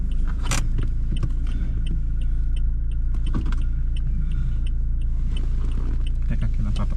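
A car engine idles with a low, steady rumble on a road trip, joined by metallic key jangles and light clicks before it is switched off, with faint voices in the background.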